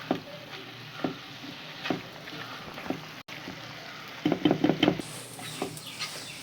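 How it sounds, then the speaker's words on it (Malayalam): A spoon stirs spiced masala through mutton for a Kerala-style varutharacha curry in a pan, giving soft scraping knocks and faint sizzling. A denser burst of clattering stirring comes near the end, with no talking. "ഒരു മിനിറ്റ് ഒന്ന് ഇത്തിരി ഒന്ന് നമുക്ക് ഇളക്കി കൊടുക്കാം"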